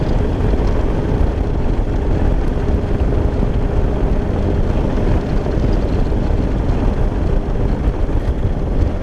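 A small engine with dirt in its carburetor runs close and loud as a dense, unbroken drone throughout.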